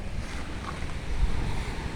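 Waves wash onto Pohe beach in Gorontalo, Indonesia, with steady low surf and wind buffeting the microphone. The rumble runs continuously and evenly, with no voices.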